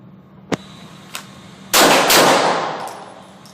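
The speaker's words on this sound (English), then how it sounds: "the shooter will draw and fire 2 rounds from the bent elbow position in 2 seconds" Handguns fire at a shooting range: two sharp, loud shots burst close together after a couple of faint clicks, the reports ringing off into a lingering echo.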